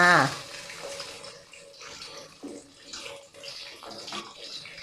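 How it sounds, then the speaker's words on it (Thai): Fish sizzling and frying in hot oil with ginger in a pan, a steady broadband crackle and hiss that runs continuously at moderate level, with a brief tonal sound at the start and no talk. "เมื่อน้ำมันร้อนแล้วนะคะ เราก็นำปลาค่ะลงไปทอดได้เลยค่ะ"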